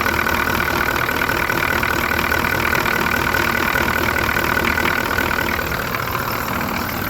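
An Oldsmobile 5.7 diesel engine runs on a thick 50-50 mix of diesel and used vegetable oil after a cold start in freezing weather, with a steady, loud, close idle rumble and no voices.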